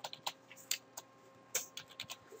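Quiet, close keystrokes on a computer keyboard as a command is typed, a quick irregular patter of clicks with brief gaps.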